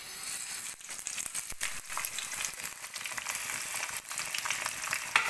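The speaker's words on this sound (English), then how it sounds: "And fry the onions." Onions fry in vegetable oil in a pan for a jackfruit dish, crackling and sizzling steadily with a few sharp pops and stirring scrapes.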